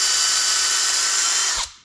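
A power drill bores a hole through rubber for an RV grey water drain pipe, a loud continuous high whine that holds steady for nearly two seconds before spinning down at the end.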